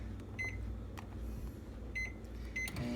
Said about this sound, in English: Now you have to microwave the stuff you just kneaded.